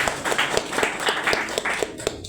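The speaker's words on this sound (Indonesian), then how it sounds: "Tepukan untuk Pak Mega." Audience at an MPR RI four pillars outreach session in an upstairs venue, giving a short burst of rhythmic hand clapping, moderately loud and close, with no talk over it.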